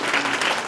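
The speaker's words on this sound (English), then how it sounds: "I want to ask you to join me in a round of applause for Dr. Jabari." Workshop audience applauding, a brief burst of dense, steady clapping from a room full of people.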